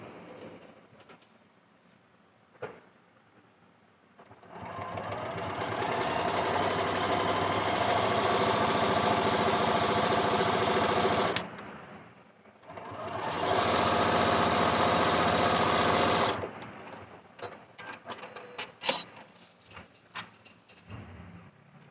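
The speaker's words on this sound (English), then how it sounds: "So now I'm going to stitch right on that stitch line." A sewing machine stitches along a quilt seam line in two sustained runs, about seven and four seconds long, separated by a short pause, steady and close, with handling noise between and no talk.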